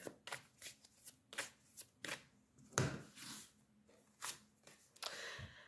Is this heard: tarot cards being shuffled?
yes